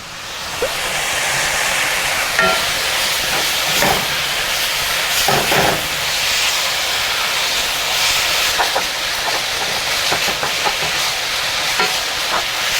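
Duck and sliced onions fry together in a pan for gochujang-marinated duck, cooked in the duck's own fat; a constant loud sizzle runs throughout, broken by occasional scraping stirs.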